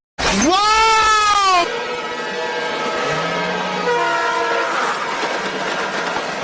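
A train horn blares loudly for over a second as a train approaches a railway crossing in a film action scene, then the steady rumble and rail noise of the passing train carries on, with brief tonal squeals and clanks over it.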